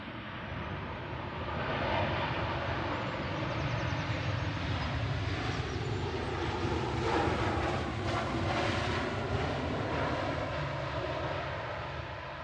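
A passenger plane touches down hard at Manchester Airport, its engines a loud sustained roar that swells and holds, blended with wind buffeting the microphone, heard from the spotting area without any talking.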